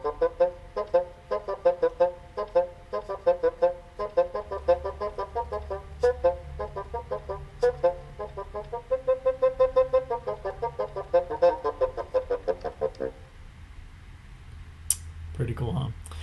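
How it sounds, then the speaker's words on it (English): Solo bassoon plays a steady run of short, detached reedy notes in a clear rhythmic pattern, close and moderately loud, then stops abruptly with a brief clatter. "So yeah, so that is a bassoon, and that is the instrument that you will be playing in band."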